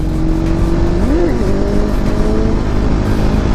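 A Suzuki Hayabusa superbike revs hard outdoors on a public road during a wheelie attempt, a loud, close engine roar with a brief rising and falling pitch sweep over steady background noise.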